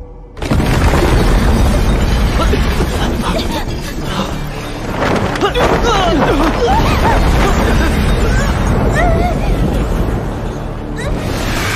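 A giant puppet's core blows apart in a martial-arts fantasy battle, a loud sustained roar of explosion and crashing debris filling nearly twelve seconds with dense rumble and scattered bursts throughout.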